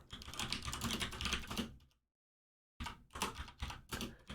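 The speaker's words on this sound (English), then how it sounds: "I'm typing this in the chat" Rapid clicking of a computer keyboard as someone types a chat message after an online chess match, with a steady patter of keystrokes, a short pause, then more quick typing.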